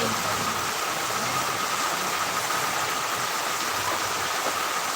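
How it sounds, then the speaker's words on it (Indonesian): Steady rain pouring down in Ambon, a dense continuous hiss that stays even and fairly loud throughout with no clear voices over it. "Di Ambon hujan."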